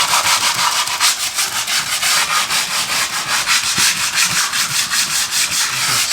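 Sandpaper sheet of coarse 60 grit rubbed by hand across drywall, a steady, loud rasping scrape with rhythmic back-and-forth strokes close by and no talking.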